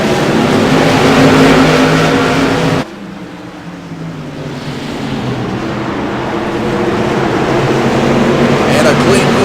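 CRA modified race cars accelerate off the start at Martinsville Speedway, a loud engine roar that drops sharply partway through, then swells again as the pack builds speed.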